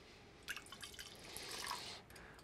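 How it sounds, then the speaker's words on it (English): Low-fat milk poured into a bowl while baking cookies, a soft close liquid trickle with light dripping that runs steadily for about a second and a half, then stops. "Pour our lovely milk in there."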